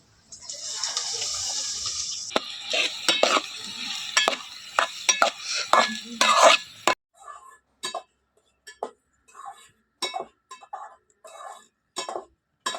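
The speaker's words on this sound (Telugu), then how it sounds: "ఉల్లిగడ్డ బ్రౌన్ కలర్ అయ్యేంత వరకు వేపుకుందాం" Onions fry in hot oil with cumin in a pot for a dhaba-style egg curry: a close, hissing sizzle at first, then a run of sharp spoon clinks and scrapes against the pot as it is stirred.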